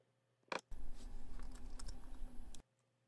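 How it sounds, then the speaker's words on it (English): Rapid, steady clicking of keys on a computer keyboard for about two seconds, close and fairly quiet, with a single sharp click just before. "It's like typing."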